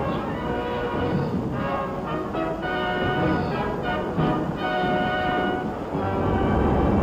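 The Yankee Clipper passenger train rolls in on the upper level of Grand Central Terminal, a steady loud rumble with wheel and rail noise and faint horn-like tones running throughout, with a voice speaking over it.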